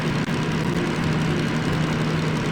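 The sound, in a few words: diesel locomotive engine running, from video game Derail Valley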